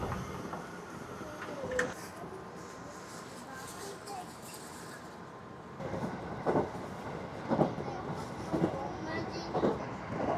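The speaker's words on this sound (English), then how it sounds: "this is the Ryomo line operated by JR East" Inside a moving JR East Ryomo Line train, the cabin rumbles at a steady low level with rail clatter and faint rattles, and soft voices are audible.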